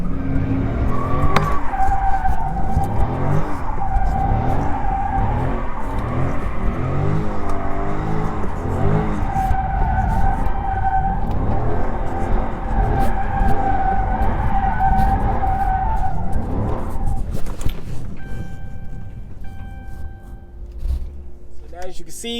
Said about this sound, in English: I'm gonna show you how to do small donuts